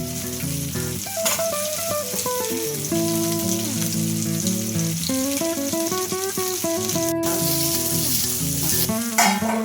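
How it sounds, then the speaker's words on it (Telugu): Onions and tomatoes frying in a pan, a loud continuous sizzle sitting under prominent background music that plays throughout. "ఫస్ట్ ఆనియన్స్ ఫ్రై చేయాలి లైట్గా."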